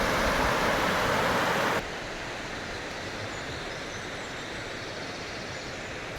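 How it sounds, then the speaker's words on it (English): The River Lava flowing along a countryside trail, a constant broadband rush of water, loud at first and then dropping to a softer, steady flow as the level shifts partway through. "It's an impressive river, the River Lava."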